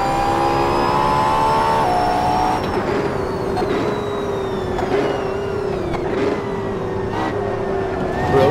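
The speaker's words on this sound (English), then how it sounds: "The noise from the Lamborghini in front then." A loud, close Lamborghini engine roars and revs steadily at Laguna Seca in a race against AI cars, pitch shifting as it accelerates, with a second engine's drone underneath.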